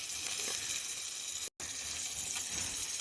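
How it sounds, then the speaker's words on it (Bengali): Koi fish fry crisply in hot oil, giving a soft, steady hiss and crackle that briefly cuts out midway and then resumes. "এইটা একটু খটকড়া করে মানে খটখটা করে ভেজে দিচ্ছি তোকে"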